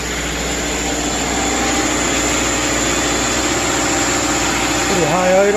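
The replacement engine in a 2010 Subaru Outback idles high and steady at close range, a continuous droning hum with a slight rise in pitch near the end.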